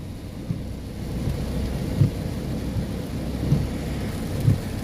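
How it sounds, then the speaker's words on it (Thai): Steady rain pours down on a hillside with a broad, continuous hiss, punctuated by a few soft low thumps from drops or distant rumbles; no voices. "ฝนเริ่มมาแล้วครับ"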